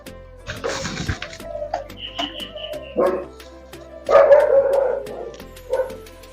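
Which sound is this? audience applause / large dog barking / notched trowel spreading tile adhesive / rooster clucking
large dog barking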